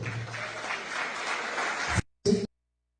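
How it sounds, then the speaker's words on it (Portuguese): A church congregation applauding, a steady wash of clapping that stops abruptly, followed by a brief final burst. "Vamos aplaudir o Senhor."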